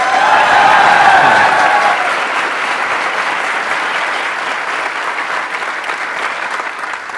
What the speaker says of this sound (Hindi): सब लोगों ने बहुत बड़ी तालियां बजाई